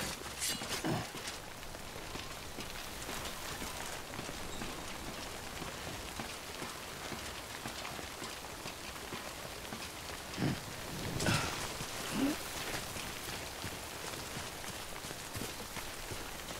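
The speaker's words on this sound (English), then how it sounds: "remember that prolonged exposure to timefall damages cargo containers. Don't stay out in the rain any longer than you have to." Timefall rain patters steadily and fairly softly on surfaces in Death Stranding, a continuous even hiss with a few louder splashes and no talk.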